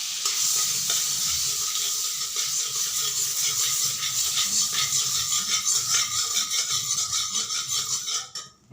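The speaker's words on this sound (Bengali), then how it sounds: "কড়াইতে প্রথমে আমি দিয়ে দিচ্ছি বাটার।" Butter sizzling steadily in a hot kadai, a loud continuous crackle close by with faint stirring and pan rattles, fading out at the end; no one speaks.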